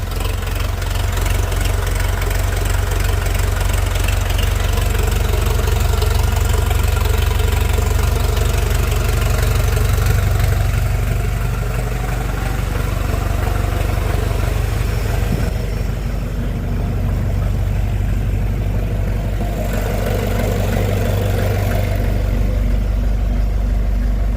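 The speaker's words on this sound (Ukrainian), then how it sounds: "з включеними фарами завівся наш скаут" A Scout TY-404 C compact tractor engine idles steadily in -11 degree frost with its headlights on, a loud, continuous low diesel rumble with a faint knocking texture, running alone without any voices.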